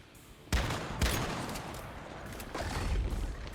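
Shotgun fire in the video game Once Human, a few heavy booming blasts with a rolling, sustained rumble after them, loud and close, with no voices.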